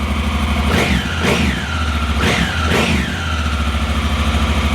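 A Honda Africa Twin motorcycle engine cranks and catches, with several sharp rev blips rising over a steady, rumbling idle, close and loud.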